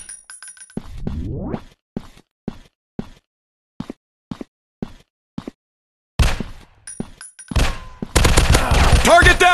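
Gunfire in a zombie shooting game set in an industrial war zone: a string of separate sharp shots, then denser bursts and a loud rapid volley near the end, with clinking impacts mixed in.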